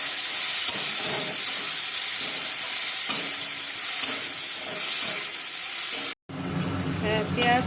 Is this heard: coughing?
no